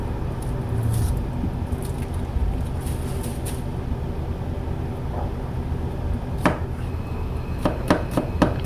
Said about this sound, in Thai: ก็หั่นประมาณนี้